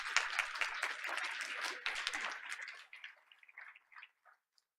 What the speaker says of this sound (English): Please join me in another round of applause for all the Bonnie O Bulldogs.